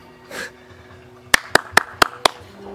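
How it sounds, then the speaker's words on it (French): Neighbours clapping for doctors at 8 pm during lockdown: a brief murmur, then five crisp, evenly timed claps, near and clear against a low outdoor hum. "Là, ça applaudit."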